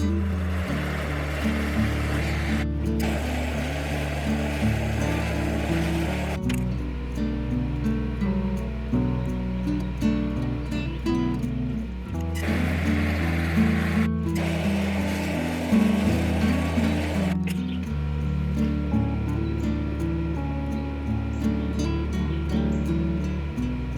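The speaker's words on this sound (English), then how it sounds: "I'm using a map torch here to preheat the stem of the birdbath, being sure to also heat the area around it." Steady, loud roar of a MAP gas torch flame preheating the stem of a broken cast iron birdbath before welding, a continuous hiss and rumble that shifts slightly in tone as the torch moves, with no talking.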